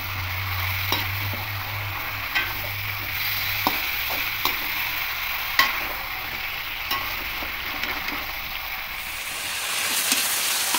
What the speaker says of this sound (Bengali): এবার খুব ভালো করে মিশিয়ে নেব